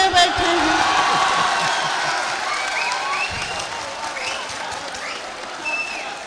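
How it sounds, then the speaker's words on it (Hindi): Applause from a stage-show audience rises under an ongoing voice, steady and fairly loud with occasional whoops from the crowd. "तालियां कमजोर है"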